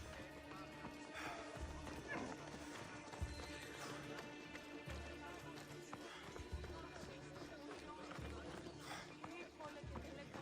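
Galloping horse hooves in the ancient Greek world of Assassin's Creed Odyssey, a quick steady clip-clop under dense game music and ambience, with whinnies now and then, continuous and fairly loud throughout.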